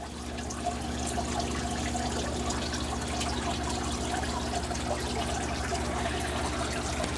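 Water splashing and trickling steadily in a home fish room aquarium waterfall tank, a continuous close wash of flowing water over a low electrical hum, with no talking.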